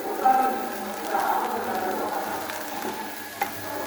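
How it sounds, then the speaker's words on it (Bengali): A vegetable bhaji frying and being stirred in a pan gives a steady, close sizzle with occasional scraping stirs, fairly loud and without talk. "আমি আর কিছুটা আমি একটু রান্না করে নিব, একটু ভাজা ভাজা করে নিব ভাজিটা।"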